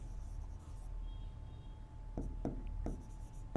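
Pen strokes scratch faintly on paper in a few quick bursts, close and quiet, with a steady hum underneath.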